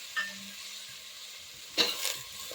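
Spices and pigeon peas hit hot oil while tempering for khichdi, giving a soft, low background sizzle, then a sudden louder hiss and crackle near the end as more goes into the pan.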